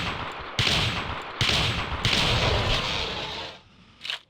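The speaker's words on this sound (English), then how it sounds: "it did take a few shots before we downed him" Rapid gunfire rings out in the video game Carnivores Triassic as a dinosaur is shot down: several loud, close cracks in quick succession over a few seconds, then fading to a quieter thump.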